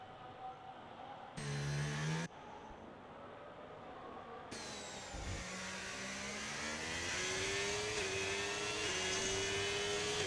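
A Formula 1 car engine on a lap in a racing video game whines at high pitch, rising and shifting through gears, faint at first then growing steadier and louder, with a brief sharp burst near the start.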